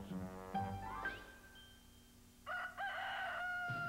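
A rooster crowing in a Kentucky Fried Chicken advert: a close, loud cock-a-doodle-doo with a rising tonal call, followed by a second strained crow, heard alone without talk.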